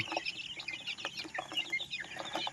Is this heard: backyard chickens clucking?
yes